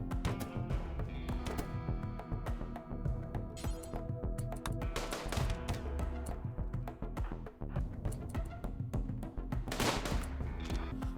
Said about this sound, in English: The guys took positions, and the fight between weapons and sticks began.